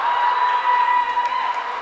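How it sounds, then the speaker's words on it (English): A swim team cheering on a swimmer at a girls swimming championship meet, a sustained crowd roar with a steady high whistle-like tone, fairly loud and unbroken. "Their team is cheering her on to go against that clock, make that time."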